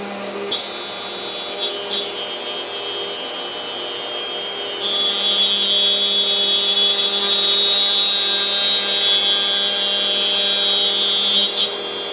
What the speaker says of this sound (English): And now I'm just going to move that router bit up a little bit, and we'll make the second pass.